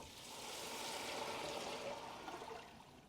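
Homemade chicken broth is poured steadily into a soup pot with bay leaves, a soft continuous splashing gush that swells and then tapers off.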